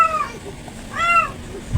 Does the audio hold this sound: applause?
no